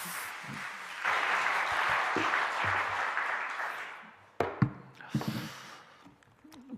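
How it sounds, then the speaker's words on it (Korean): A church congregation claps at an early-morning weekday worship service, a broad steady wash of applause that fades after about four seconds, followed by scattered louder knocks and shuffling. "우리 하나님께 영광의 박수 한번 돌립시다"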